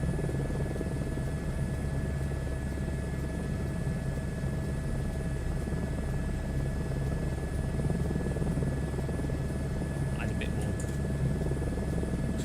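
A helicopter in Microsoft Flight Simulator 2024 hums with a continuous rotor and engine drone, low and steady with faint high tonal whines over it, unbroken the whole time.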